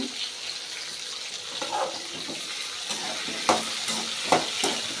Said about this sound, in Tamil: சின்ன வெங்காயம் வந்து நல்லா வதங்கினா தான் நல்லா டேஸ்ட்டாக இருக்கும்